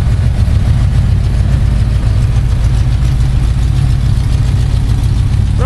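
A 1985 Chevrolet Silverado pickup's engine idles steadily with a deep, continuous low rumble, loud and close, with no voices over it.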